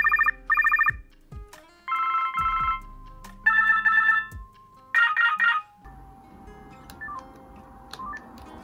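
A series of electronic tones from a Motorola T720i flip phone: bursts of beeping trills separated by short pauses, then a steady sustained tone, clear and close.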